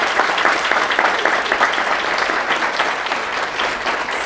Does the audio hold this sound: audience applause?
yes